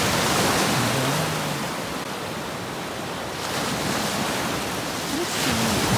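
Sea waves roll onto the shore at a Bulgarian resort around St. Vlas and Elenite, a loud, continuous surf wash that swells and eases, with brief whistle-like tones from a voice or wind.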